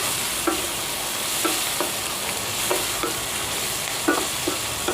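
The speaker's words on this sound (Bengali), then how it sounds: "টমেটোটা দিয়ে দিলাম যেটা কেটে রেখেছিলাম ক্যাপসিকামটা দিয়ে দিলাম যেটা কেটে রেখেছিলাম একটু ভেজে ভেজে নিয়ে" Chopped tomato and capsicum fry in a hot pan with onion, a loud steady sizzle punctuated by regular spatula scrapes and taps as the vegetables are stirred.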